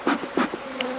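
Honeybees buzz close by during a beehive inspection, sounding as a few short, loud droning bursts that rise and fade in quick pulses.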